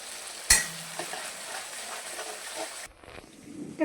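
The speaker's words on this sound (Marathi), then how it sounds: "तर हा मसाला एकदम बारीक गॅसवर फ्राय करून घेऊया." Spice masala frying in oil over a low flame gives a soft, steady sizzle with a sharp clatter near the start. The sizzle cuts out abruptly toward the end, leaving quieter stirring noises.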